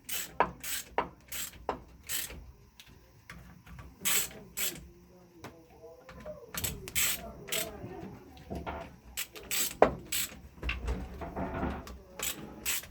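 Ke102 engine being reassembled, its case tightened a little at a time with a bearing pressing into place, giving scattered sharp clicks and small pops over quiet mechanical rubbing, close and fairly faint, with low talking mixed in.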